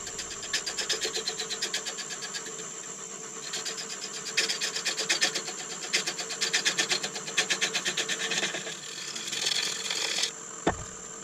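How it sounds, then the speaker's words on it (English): A wood lathe turning beech at 500 RPM while a tenon is squared up: rhythmic, rasping pulses of the tool cutting against the spinning blank, in repeated bursts over a steady motor whine, with a short knock near the end. "Off at 500 RPM, and we'll square up this tenon and lose a little bit of it."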